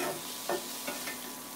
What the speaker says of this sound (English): We're gonna give these a stir.